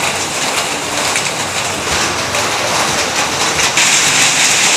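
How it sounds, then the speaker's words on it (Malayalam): Heavy rain pours down in a steady, dense hiss close by, loud and unbroken throughout, with no voices. "മഴ കൂടി ഡാർക്ക് അടിഞ്ഞ് എങ്ങനെ നമ്മൾ ഇറങ്ങും? അയ്യോ മഴ."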